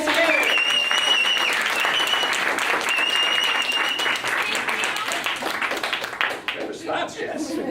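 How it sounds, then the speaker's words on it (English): Theatre audience applauds as a vote during a stage show, a full burst of clapping that holds strong for several seconds and then tapers off, with some voices over it. "All of you who think Jesse should have the heart,"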